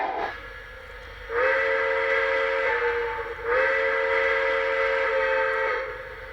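Lionel Dreyfuss Hudson 1938 20th Century Limited model train whistle sounding two long, steady chord-like blasts after a quiet start, loud and near over a low running hum.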